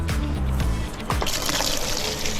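Engine coolant pouring out of a car, a close, full splashing gush of liquid that briefly thins to a trickle and then surges again.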